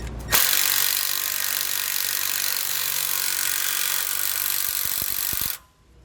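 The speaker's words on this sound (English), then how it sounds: "And for the bolt that has a hex head, I'm going to use a 9/16 socket." A power tool, likely an impact wrench with a 9/16 socket, runs steadily for about five seconds, loud and close, tightening a hex head bolt on a Roadmaster rear anti-sway bar on a 2020 Winnebago Vista.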